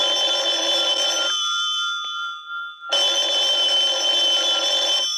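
An old-style telephone bell rings loudly in steady trilling bursts, breaking off for about a second and a half before the ringing resumes just as loud.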